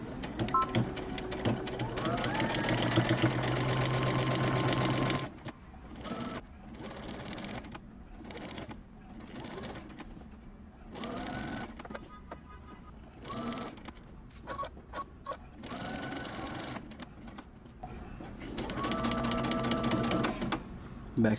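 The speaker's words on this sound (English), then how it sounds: "we're gonna take this over to the sewing machine and we're gonna stitch right along the edge all the way around" A sewing machine stitches along the edge of a shirt pocket on a men's button-up shirt, running in a loud steady whir for several seconds, then in short stop-start bursts, ending in another long continuous run.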